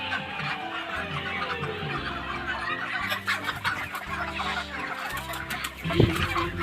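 Broiler chickens around 38 days old cluck and squawk steadily on a poultry farm, many birds overlapping close by, with one louder squawk near the end and no talking.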